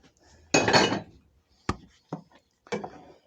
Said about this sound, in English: I'm going to dump my noodles in.